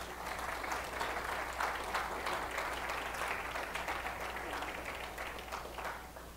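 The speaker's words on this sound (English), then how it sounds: "give him a hand clap of praise" A church congregation claps hands in praise during a Sunday morning service, a dense sustained wash of applause that fades slightly toward the end, with faint voices mixed in.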